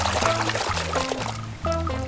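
Water pouring from a container over dinosaur toys being washed, a close, continuous splashing trickle with some gurgling, accompanied by intermittent tonal electronic beeps.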